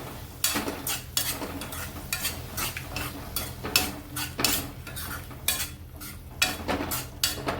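A spoon stirs paneer bhaji mixture with added batter in a pan, making repeated, close scraping and clattering strokes in an irregular rhythm over a faint sizzle. No voices are heard.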